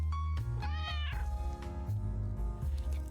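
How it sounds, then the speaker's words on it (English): A video game cat lets out a loud meow for attention: several drawn-out, tonal meows in quick succession, close and clear, with no other sound. "letting out a loud meow for attention"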